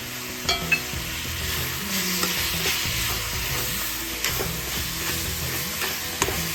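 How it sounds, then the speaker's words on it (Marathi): Mango pieces stirred into a jaggery and coconut mixture in a pan for mango modak, with steady scraping and soft sizzling broken by a few sharp spoon knocks against the pan. No one speaks. "आंबा घालून व्यवस्थित असं आपल्याला एकजीव करून घ्यायचंय।"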